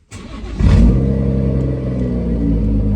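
A BMW M240i engine cranks and fires up, surging to a loud rev flare before settling into a steady, rumbling idle close by, with no talking.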